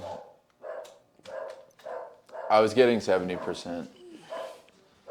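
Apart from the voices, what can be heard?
dogs barking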